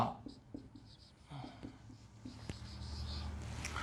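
A pen writing math on paper in a tenth-class lesson, quick scratchy strokes and taps in short uneven bursts, close and fairly faint, with a voice talking quietly around them.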